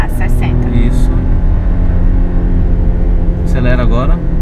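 A 2017 Volkswagen Golf 1.0 TSI turbo engine accelerates in second gear, a steady, close rumble under continuous talk from people inside the car.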